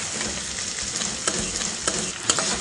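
Pieces of meat browning in a pan for a Beninese bean purée, giving a steady close sizzle with a few soft scraping stirs standing out above it, no voices.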